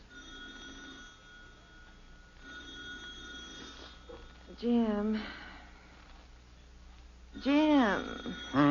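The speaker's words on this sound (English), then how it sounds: "The telephone's ringing." A telephone rings in repeated bursts at a moderate distance, with a voice speaking briefly between the rings.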